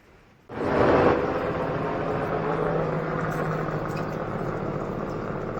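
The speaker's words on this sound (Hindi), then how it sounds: "आज के दिन का पहला रेस्क्यू हेलीकॉप्टर है ये।" An army rescue helicopter's engine and rotor roar start suddenly and hold steady, a loud continuous drone close by.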